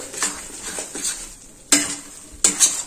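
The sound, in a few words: stirring cardamom powder and spice into adadiya mixture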